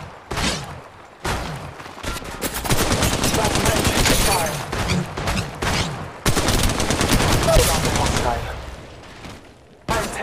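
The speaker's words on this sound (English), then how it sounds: "Shots fired at me." Rapid automatic gunfire from a firefight in the mobile battle royale game Apex Legends Mobile, bursts of loud overlapping shots filling most of the span with brief pauses between volleys.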